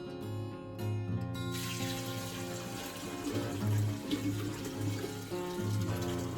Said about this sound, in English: we're going to pour this in here very carefully.